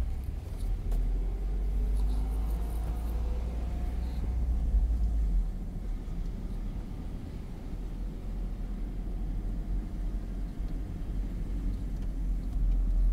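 A very small car drives on after a U-turn on a road in Bennington, Vermont, heard from inside as a steady low engine and road rumble with no voices.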